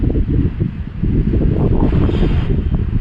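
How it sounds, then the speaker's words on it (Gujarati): Steady, loud wind buffeting the microphone on a rooftop terrace as rain sets in, a continuous low roar with gusty fluctuations and no voices. "અને પવન છે એટલો મસ્ત ઠંડો ઠંડો આવે છે"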